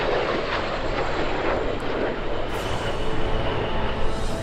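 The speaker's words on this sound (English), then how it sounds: "end Airshow Action 2019 with a quick look at the CF-18 demo team" A CF-18 Hornet military jet roars through an airshow demonstration, a steady loud broadband engine rush that holds without a break, with no voices.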